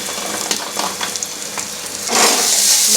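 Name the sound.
coriander powder and cumin sizzling in frying pan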